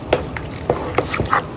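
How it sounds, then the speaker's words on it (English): Macaroni noodles being stirred into a pot of melted cheese sauce, giving a few soft wet squelching strokes at an uneven pace, close and fairly quiet. "Now once it's melted, add the noodles into the cheese melt,"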